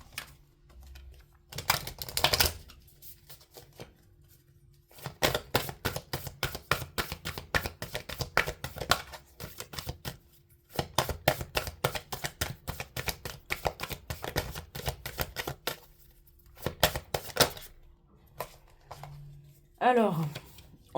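Oracle cards for a reading being shuffled by hand, close and crisp, in repeated bursts of rapid riffling flutter separated by short pauses, with someone talking at times.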